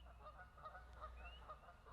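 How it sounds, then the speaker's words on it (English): A flock of geese honks continuously in the distance, overlapping calls forming a faint, steady chorus with no talking. "so it is geese time, apparently, geese party"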